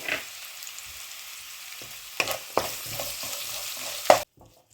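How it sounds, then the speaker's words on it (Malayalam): Onions with salt sautéing in a pan for a Kerala-style prawn and mango curry, a soft even sizzle with a few sharper scrapes of stirring, close by, ending abruptly. "ഇനി നമുക്കിതിലേക്ക് കുറച്ച് ഉപ്പുകൂടി ഇട്ട് കൊടുത്ത് സവാള നന്നായിട്ടൊന്ന് വഴറ്റിയെടുക്കാം"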